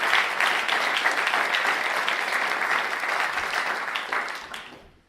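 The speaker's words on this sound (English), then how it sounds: "Let's give a round of applause to all of you." A convocation audience applauds the graduating class at Conrad Grebel, giving a sustained, even wash of clapping for about four seconds that fades out smoothly toward the end.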